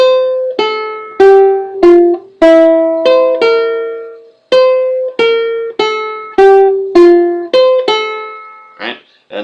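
Plucked ukulele notes pick out a short melody, each note ringing and decaying, played alone and close up with brief pauses between.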